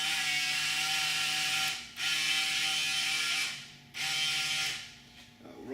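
A hand-held non-aerosol oil sprayer is pumped in three long, steady bursts of hissing air, each separated by a brief pause.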